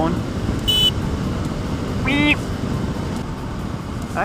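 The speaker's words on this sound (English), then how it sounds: "This is the sound of the horn." A 2015 KTM RC390 motorcycle's horn sounds in two short tonal beeps over steady riding and wind noise, the second louder and lasting about a quarter second.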